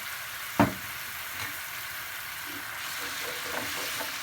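Tomato sauce with a pinch of salt and sugar sautés in a pan over unlowered heat, a steady soft sizzle and hiss throughout, with a sharp utensil clack near the start and faint stirring scrapes.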